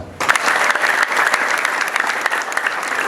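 A church congregation claps in sustained, dense applause that starts abruptly and continues loud and steady throughout.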